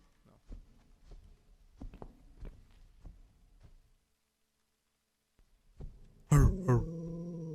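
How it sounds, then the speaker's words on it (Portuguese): A dog growls in low, uneven pulses in the horror video game The Cat Lady, then after a short silence a sudden loud, strained snarl rises up and holds, faint at first and then close and harsh. "Tem um cachorro ali dentro"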